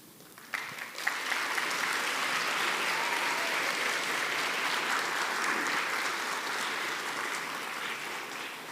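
A church congregation bursts into warm, sustained applause after a brief quiet moment, clapping filling the room steadily and tapering slightly toward the end.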